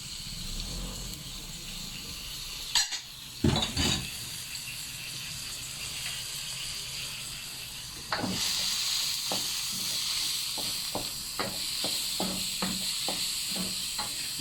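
Onion and leek frying in a pan, a steady hiss of sizzling with a few clanks and scrapes of a utensil stirring, the sizzle growing louder partway through and dotted with light tapping stirs.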